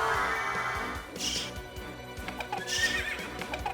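Horses whinny twice in Castlevania: Symphony of the Night, a loud shrill neigh rising near the start and another late, over a steady background of hoof clip-clop and game ambience.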